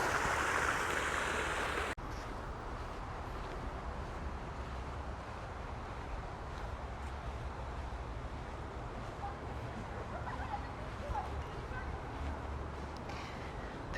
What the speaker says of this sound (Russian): Фонтан имеет 7 источников